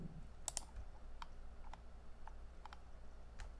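Scattered light clicks of a computer mouse wheel and keyboard Ctrl key, a handful of soft isolated taps spread irregularly over a quiet low hum.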